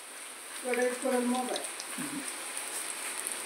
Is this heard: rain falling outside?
yes